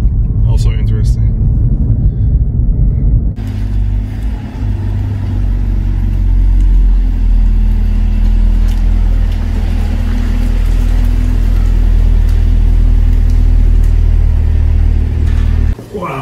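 A powerful car engine rumbles low and steadily from inside the cabin while driving, a deep continuous drone beneath someone talking for much of the time.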